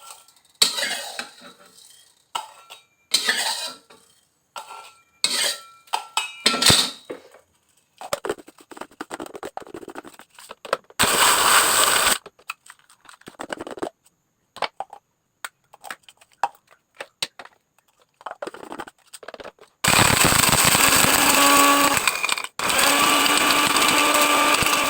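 An electric food chopper grinding dry spices whirs in short loud bursts, then runs longer near the end, between quieter clatter and handling noises.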